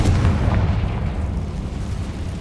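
Confringo explosive spell blast in the Hogwarts Legacy video game, a single heavy, bass-rich boom that hits hard at once and then rumbles and decays, loud and close, with no talking.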